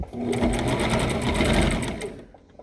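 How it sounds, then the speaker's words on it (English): A sewing machine stitching forward and back on a fabric pin-up bow gives a steady, rapid mechanical whir and needle clatter, close and continuous for a couple of seconds before stopping. "I'm gonna sew a little forward there, a back stitch"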